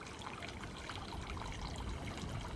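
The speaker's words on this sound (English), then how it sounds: "All the water features are going." A small solar-powered garden water feature trickling softly and continuously, a faint, close dribble of falling water with no talking.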